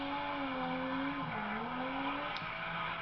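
Nissan S15 with a 2JZ engine drifting through the first corner at a King of Europe drift round in Spain: a loud, sustained engine drone with a gliding pitch under continuous tire squeal, heard from nearby without breaks.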